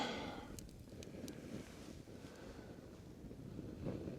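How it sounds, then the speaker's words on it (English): Steady wind buffets the microphone outdoors at a campfire, a low rushing roar with gusts swelling and easing, no voices present. "Starting to get a wee bit too windy for a fire"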